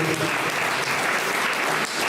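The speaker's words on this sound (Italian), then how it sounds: "Antonio, un applauso Antonio." An audience at a Sardinian poetry contest in Ardara greets a poet with dense, continuous applause, a loud wash of many hands clapping at once for the whole moment.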